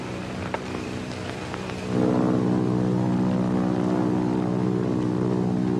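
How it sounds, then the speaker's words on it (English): Army propeller planes drone overhead, a low, steady engine roar that swells suddenly partway through and then holds loud and continuous. "Might be army planes."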